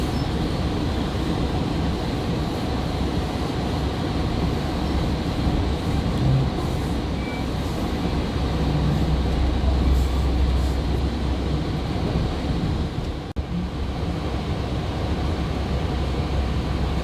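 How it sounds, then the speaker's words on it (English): Steady, even whooshing hum of the climate control system inside a GO Transit passenger train in Toronto, continuous and fairly loud with little variation and no talking. "the most amount of noise that you hear is from the climate control system"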